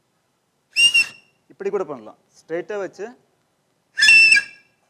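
Whistle made by blowing across a balloon stretched over a cap, two short shrill whistles with a person talking in between.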